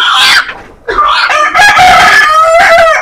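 Close, loud chickens cluck while a rooster crows, a brief pause breaking the calls before a long crow rings out over continued clucking in a poultry-keeping setting.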